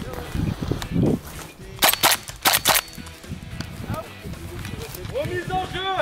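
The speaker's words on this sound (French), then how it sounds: "quand on recharge à vide, on réarme" A GHK G5 gas blowback airsoft rifle is reloaded and cocked during a close-quarters airsoft game, giving a quick cluster of sharp metallic clacks with people talking before and after.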